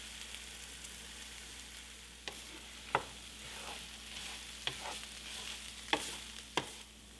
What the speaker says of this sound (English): we're going to add it to our tofu, which is cooking